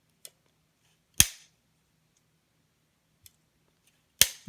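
A Glock 22 magazine release pressed and the magazine ejecting, heard as small clicks followed by two sharp metallic snaps with short ringing tails, close and loud over near silence.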